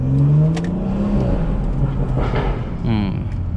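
A BMW in Sport Plus mode with an aftermarket budget exhaust revs, its engine note rising and falling in loud sweeping tones with a sharper whine near the end, heard from inside the car.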